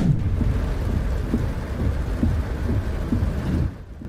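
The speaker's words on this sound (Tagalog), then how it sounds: "Baha kasi sa kalsada dahil sa malakas na pag-ulan." Heavy rain pours during flooding on a highway in Naga, Camarines Sur, brought by a low pressure area and monsoon winds, a dense steady hiss with repeated low thunder rumbles rolling through before easing near the end.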